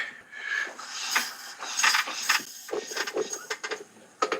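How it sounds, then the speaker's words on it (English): A rough, clattering mechanical noise with irregular ticking and tapping bursts from a damaged engine running without rocker arms, moderately loud and close. "You know you have a bad engine when there's no rocker arms and this is the noise you hear."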